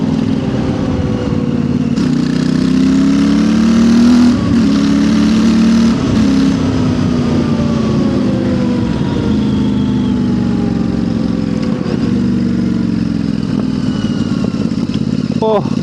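A Royal Enfield Interceptor 650 twin fitted with a new aftermarket exhaust revs loudly and close, its engine note rising and falling steadily through the whole stretch with a deep, throaty tone.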